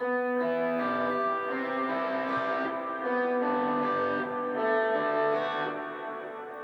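Electric guitar with effects picking out chord tones as single notes in a worship style, a steady run of sustained, echoing notes that ring over each other alone without any talk.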